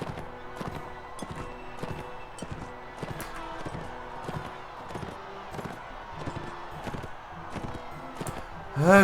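Rhythmic clip-clop of a horse galloping in Mount and Blade Warband, regular hoofbeats at a steady pace throughout, with a louder burst right at the end.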